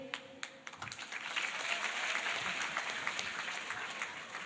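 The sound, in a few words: weak audience applause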